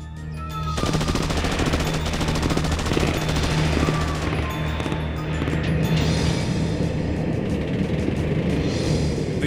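A cartoon battle volley of rapid machine-gun fire starts abruptly and keeps up as a dense, loud, continuous rattle with crashing impacts for several seconds.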